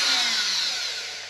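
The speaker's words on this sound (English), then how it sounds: "That wood is so hard. I can't drill through it by hand." Hand drill biting into very hard wood on an RC model jet build, a continuous bright grinding whir that holds steady and fades slightly, close and alone with no talk.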